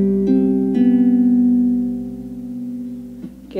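Sustained harmonic chord in C following a 1-5-8-7 pattern, with notes entering in quick succession and ringing together, loud and close, then a fresh attack near the end.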